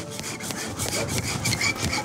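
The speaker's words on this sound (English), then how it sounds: "The key here is just getting the wire in around this tusk and getting an initial cut" A wire saw cuts through a pig's overgrown tusk at the vet, making a steady, raspy back-and-forth grinding with regular strokes, close and continuous without any speech.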